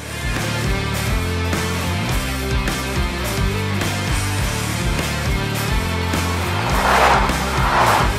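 A Maserati Grecale hybrid SUV accelerates hard, its engine note rising and falling through repeated gear changes, loud and close throughout with no talk.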